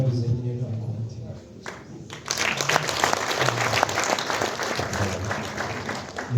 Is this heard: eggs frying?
no